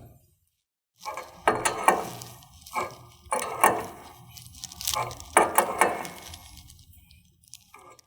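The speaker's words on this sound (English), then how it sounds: "you'll use a wrench, tighten it down into place until it's tight" A wrench tightens a fitting on an aftermarket power steering cooler on a 2007-2018 Jeep Wrangler JK, giving repeated bursts of metallic ratcheting and scraping, close and moderately loud.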